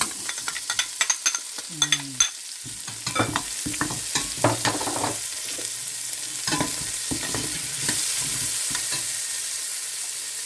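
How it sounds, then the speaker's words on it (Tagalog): Chopped small red onions sauté in a pan for chicken arroz caldo, a steady sizzle punctuated by many clattering spoon strokes and scrapes, plus a brief squeak early on. "itagay na natin yung ating tinadtad na pulang maliliit na sibuyas"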